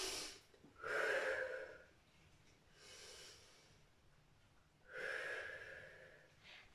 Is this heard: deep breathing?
yes